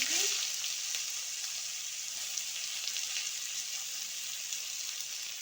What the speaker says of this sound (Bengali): পেঁয়াজটা আমি খুব ভালো করে ভেজে নেব।